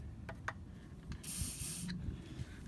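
WD-40 lubricant sprays from an aerosol can onto a U-joint in one short hissing burst, quiet and close, with faint clicks and tool clatter around it.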